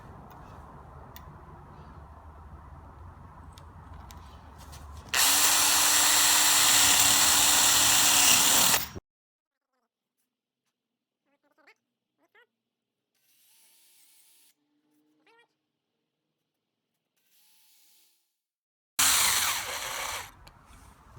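A loud power drill with a brad point bit whirs steadily for a few seconds boring a hole in wood, then stops abruptly, followed by near silence with a few faint clicks.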